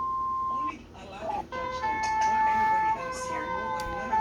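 A wailing ambulance siren with sustained tones rises and shifts in pitch, heard at moderate distance, with a voice talking over it partway through.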